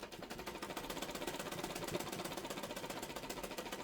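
A sewing machine stitches a frock made from an old saree, running in a fast, even mechanical chatter that stays steady and fairly quiet from start to finish.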